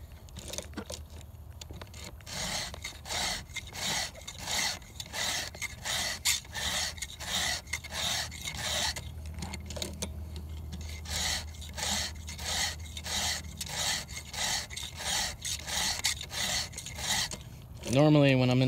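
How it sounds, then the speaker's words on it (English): A hand file sharpens a chainsaw chain in a quick, regular series of close rasping strokes, roughly two per second, ending with a brief metallic clatter. "That way there you have a little bit more pressure on the chain when you're filing."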